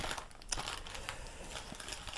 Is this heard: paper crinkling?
yes